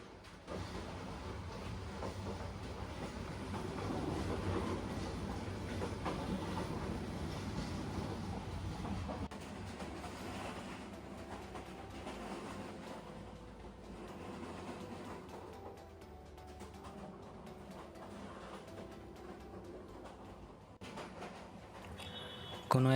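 The Kalni Express rolls along double-line tracks between Sylhet and Dhaka in Bangladesh, giving a faint, continuous rumble of wheels and carriages that swells slightly and then eases.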